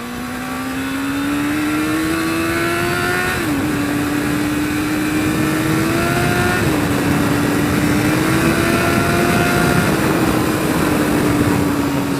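A Yamaha FZR 600 motorcycle on a test ride, its engine holding a steady drone that rises slowly in pitch with a few brief dips at gear changes, loud and continuous under wind rush.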